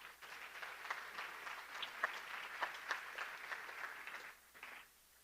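A lecture-hall audience applauds the students surveyed at a talk on young people, a moderate, continuous patter of many hands heard from a distance, holding steady for over four seconds before tapering off quickly.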